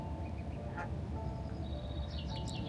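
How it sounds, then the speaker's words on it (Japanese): A parent bird and its chicks outdoors in Helsinki, Finland, give a few faint high peeps and a short quack-like call over a steady background hum. "かわいいひな鳥がいるよ"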